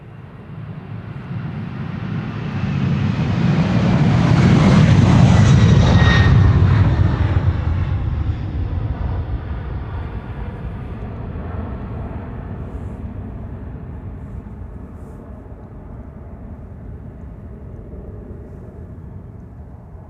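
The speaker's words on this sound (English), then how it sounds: "a nice flyby in the background of a KLM Embraer" A KLM Embraer jet flies by at an airport, its engine roar swelling to a broad peak then fading away as it passes, loud and alone with no talking.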